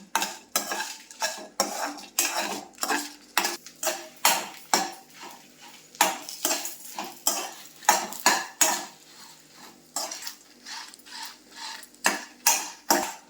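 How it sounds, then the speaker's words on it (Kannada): A metal spoon stirs and scrapes chillies and urad dal frying in sesame oil in a pan, sharp clinking strokes repeating in quick irregular bursts, close and alone. "ಒಂದು ಪಾತ್ರೆಯಲ್ಲಿ ಎಳ್ಳೆಣ್ಣೆ ತಗೊಂಡು ಎಳ್ಳೆಣ್ಣೆಯಲ್ಲಿ ಉಂಟಲ್ಲ ಮೆಣಸು ಮತ್ತು ಉದ್ದಿನಬೇಳೆ ಇದೆರಡರನ್ನು ಫ್ರೈ ಮಾಡಲಿಕ್ಕೆ."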